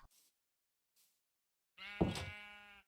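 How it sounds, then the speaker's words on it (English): A Minecraft sheep bleats once, a loud, close, wavering harmonic cry lasting about a second, preceded by two faint soft blips and otherwise quiet. "Jeez, those sheep are loud."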